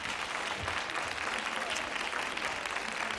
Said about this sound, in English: A little applause for them.